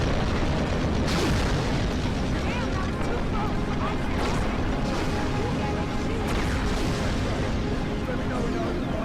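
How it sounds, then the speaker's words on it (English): A volcanic eruption in the game Carrier Command: Gaea Mission gives off a steady, loud rumbling roar with occasional deeper booms, while someone narrates over it throughout. "Even Mother Nature makes an appearance through the powerful display of a volcanic eruption"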